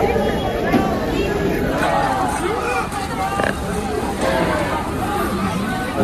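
A dense, loud crowd at the Haridas temple fair (mela), with continuous babble of many voices close by, occasional louder calls and shouts, and faint vehicle noise mixed into the steady hubbub.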